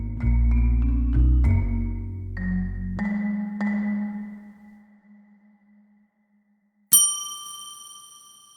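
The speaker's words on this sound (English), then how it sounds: "can we talk about my bell for a second? I have this bell." A small handheld bell rings several times in quick succession and its tones decay into silence, followed after a pause by one bright, clear ding that rings on, close and alone.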